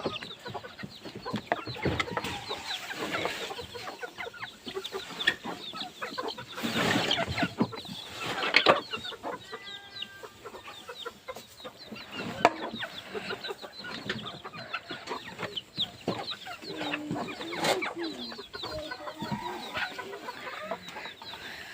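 Several chickens cluck intermittently inside a covered two-storey chicken house, a steady scatter of soft calls at moderate distance with a few louder bursts throughout.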